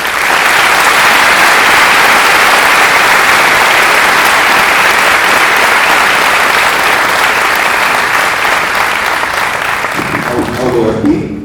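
A university audience gives steady, loud applause for a presidential candidate invited to speak, a dense continuous roar of clapping that holds evenly before tapering off at the close.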